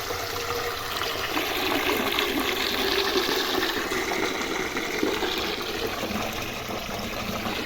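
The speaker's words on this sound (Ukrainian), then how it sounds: "Зараз поналиваю води." Water pours steadily into a bucket outdoors, a continuous rushing splash that holds an even level for several seconds with no talk.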